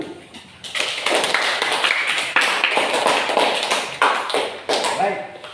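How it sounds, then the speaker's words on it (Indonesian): A classroom group of students applauds a team that has just finished presenting, with a dense burst of clapping that holds steady for about five seconds at close range, and voices mixed in. "Kita berikan aplaus untuk kelompok 1"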